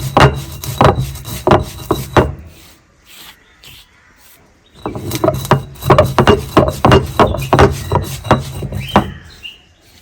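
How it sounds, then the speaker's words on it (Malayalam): Rhythmic scraping and grinding strokes of stone on stone as roasted spices are ground on a grinding stone, loud and close, pausing for a couple of seconds before resuming. "നേരത്തെ വറുത്ത് വെച്ച സാധനം ഇട്ടിട്ട് പൊടിക്കോട്ടെ"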